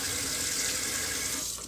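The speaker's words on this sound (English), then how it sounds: "so run you some hot water" Hot water runs steadily from a tap in a continuous hiss, close and fairly loud, tapering off at the end.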